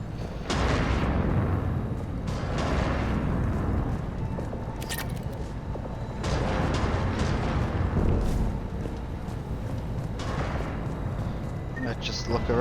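Slow, heavy cannon fire in Mass Effect 3 booms in a few powerful blasts over a dense, continuous rumble of battle noise, loud and near.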